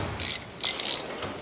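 A ratchet tightening a 14 mm brake caliper bolt on a 2005 Honda Accord, heard as several short, sharp clicking bursts close up with brief pauses between them.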